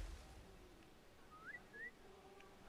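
Two short rising whistle notes from the video game Assassin's Creed 4: Freedom Cry sound in quick succession over a quiet, faintly humming background.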